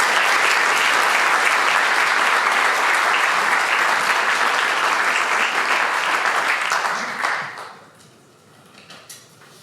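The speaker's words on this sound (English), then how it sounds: "je vous demande de l'accueillir avec applaudissements." A concert audience applauds to welcome Bozena Schmidt at a peace concert, dense steady clapping that holds strong for several seconds, then drops off sharply, leaving a few faint stray claps and room noise.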